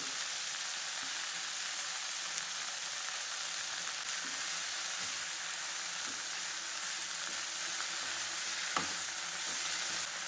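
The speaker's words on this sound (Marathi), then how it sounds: "ही मेथीची भाजी चिरून धुवून ठेवलेली होती ती आपल्याला थोडी मऊ करून घ्यायची आहे" Chopped fenugreek leaves sizzle and fry steadily in a pan as they soften, a constant close hiss with a few faint stirring clicks and no voices.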